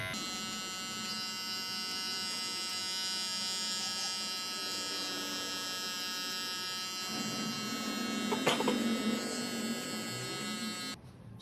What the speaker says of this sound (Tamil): அதே மாதிரி இந்த மிஷின் வச்சு இன்னும் லைட்டாக அட்ஜஸ்ட்மெண்ட் பண்ணிக்கலாம்.